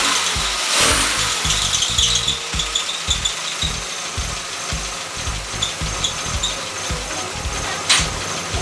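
Car engine idling steadily after a head gasket replacement, with a slightly squeaky off-centre belt, close and fairly loud, with rhythmic knocking and rubbing and occasional brief hiss bursts.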